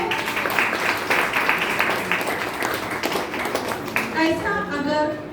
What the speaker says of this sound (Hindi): एक ताली तो बनती है।